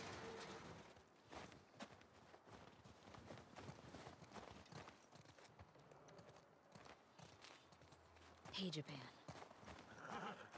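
Horses in The Last of Us Part II clop along with hooves and let out a neigh near the end, mixed with game sounds while players talk over it.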